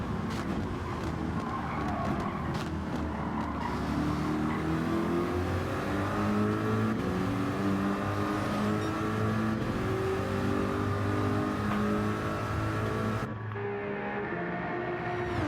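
Ferrari and Corvette GT race cars in Gran Turismo 7 running side by side, a continuous loud layered engine roar with shifting revs and tire noise, ending abruptly.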